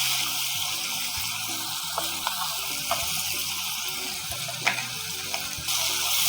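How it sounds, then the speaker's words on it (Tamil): Tomatoes cooking with salt in a pan for mutton ghee dhal give a soft, even sizzle and bubble across the whole stretch, with a few faint clicks and no talk. "இது ஒரு 2லேருந்து 3 நிமிஷம் நல்லா குக் ஆகிடும் தக்காளி."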